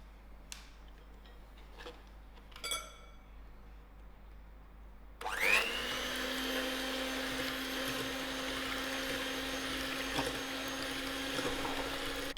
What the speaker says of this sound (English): To my eggs, I'm going to add in my milk and my oil, and I'm going to give this a quick whisk.